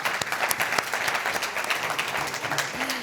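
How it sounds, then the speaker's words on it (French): Audience applause welcoming Thierry Coste, invited to speak about rural life: dense, steady clapping from a crowd filling the whole moment, with a faint voice starting near the end. "Merci de l'applaudir, Thierry."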